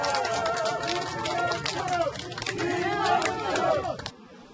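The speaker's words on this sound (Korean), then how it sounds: "지지자들이 환호성을" A crowd of supporters cheers and shouts as the campaign vehicle of Kim Young-choon, the Democratic Party's Busan mayoral candidate, arrives at an outdoor rally. The steady roar of voices runs for about four seconds and then cuts off abruptly.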